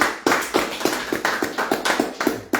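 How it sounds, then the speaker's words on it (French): A few people clapping in a French classroom or lecture setting, sparse sharp claps in an uneven rhythm, close and fairly loud, with no talking over it. "On peut applaudir?"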